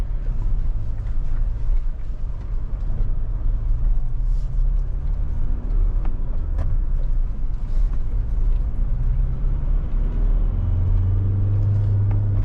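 A Mahindra Thar SUV cruises on a national highway, its engine and road noise forming a steady low rumble heard from inside, continuous and fairly loud, with no talking.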